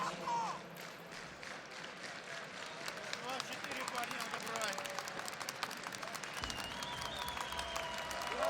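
An esports arena crowd at the CS:GO Stockholm Major 2021 applauds and cheers in a sustained, loud wash of clapping that swells toward the end, with a commentator talking over it.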